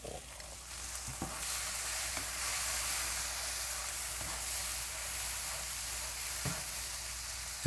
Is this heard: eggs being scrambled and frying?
yes